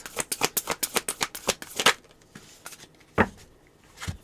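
Tarot cards shuffled and drawn, a rapid run of crisp riffling flutters for about two seconds, then a few isolated sharp card snaps and slaps close by, with no talking.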